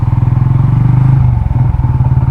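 A Yamaha Sniper 150 motorcycle fitted with an MTRT stage 1 camshaft, MBR1 ECU and Racing Monkey pipe, idling loud and close with a fast choppy exhaust pulse that briefly dips and lurches midway.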